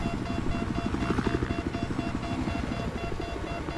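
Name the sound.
helicopter in the video game Battlefield 4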